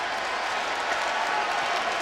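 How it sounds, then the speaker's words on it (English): LSU football fans in a stadium give a mocking Bronx cheer, a short, steady swell of broad crowd noise that is loud and continuous with no single voice standing out. "sounds like a Bronx cheer on the part of the LSU fans"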